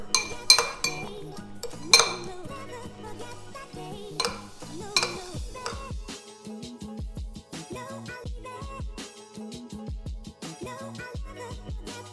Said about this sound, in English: After that, we're gonna give it a stir.